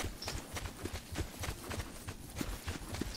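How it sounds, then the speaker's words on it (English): Footsteps in the Call of Duty Blackout video game, a rapid run of thudding steps in an even, galloping rhythm, moderately close and steady throughout, no talk over them. "we could hear footsteps of ours"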